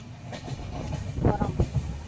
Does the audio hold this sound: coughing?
no